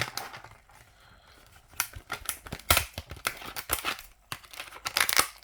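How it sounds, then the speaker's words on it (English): Scissors snip and crinkle through plastic Hot Wheels car packaging, irregular bursts of crisp cutting and crumpling close up, with quieter pauses between cuts. "let's get those trusty scissors out and get this trusty car out of its prison"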